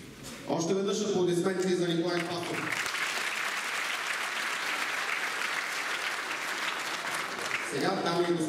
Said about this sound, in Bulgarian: Още веднъж аплодисменти за Николай Спасов.